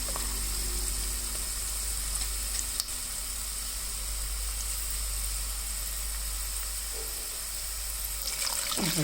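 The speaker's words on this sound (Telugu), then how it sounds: "వేగినాక వాటర్ పోసేయటమే." Water poured into fried wheat rava for upma gives a steady hissing pour and sizzle that runs throughout, fairly quiet and close, with a faint tap near the start and no one speaking.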